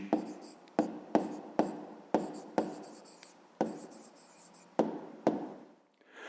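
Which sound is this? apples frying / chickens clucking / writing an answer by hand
writing an answer by hand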